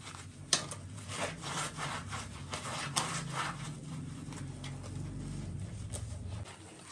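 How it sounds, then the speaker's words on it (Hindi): A Scotch-Brite scrubber is rubbed lightly back and forth over a tea strainer in a kitchen, making faint, rhythmic scratchy rasping strokes close by, with a couple of small knocks. "ये स्क्रॉच ब्राइट जो है इसकी मदद से हम इसको इस तरीके से हल्का हल्का बस क्लियर हो जाएगा"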